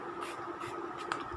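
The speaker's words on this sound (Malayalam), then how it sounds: "അപ്പോൾ നമുക്ക് വെറുതെ ഒന്ന് നമ്മുടെ മുഖത്ത് സ്പ്രേ ചെയ്യാം കേട്ടോ." Green tea misted from a spray bottle onto a face gives a soft, steady close-up hiss for just over a second, with a slight brush-like texture.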